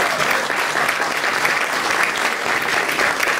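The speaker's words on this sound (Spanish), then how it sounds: "Un aplauso grande para Sábado Felices." Loud, steady applause from the audience at an arts awards ceremony in Bogotá, a continuous dense clapping that fills the whole short stretch without pause.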